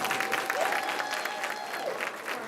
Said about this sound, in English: Another hand of applause for our students.